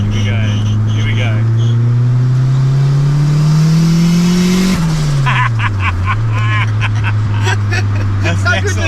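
Turbocharged Honda Civic with no VTEC pulls hard in second gear, its engine note climbing steadily before a lift-off and brief venting hiss from the blow-off valve, heard from inside the cabin with people talking.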